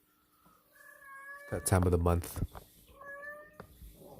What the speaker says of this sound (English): You can hear my cat a lot for the next week or so, just meowing.